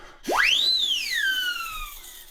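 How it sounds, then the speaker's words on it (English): A single siren whistle blown once, its pitch swooping sharply up then sliding slowly down in a long, clear wail, close and fairly loud. "you've got a good old Acme siren whistle"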